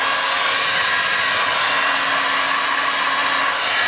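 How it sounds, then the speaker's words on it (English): A heat gun blows a steady, loud, even hiss of hot air as it shrinks a foil cap onto a homebrew bottle, running continuously without pause. "get your heat gun, it doesn't take long"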